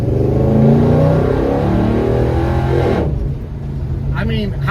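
A 1966 Chevelle with an LS engine conversion revs hard, its deep engine drone steady and loud before easing off briefly and building again.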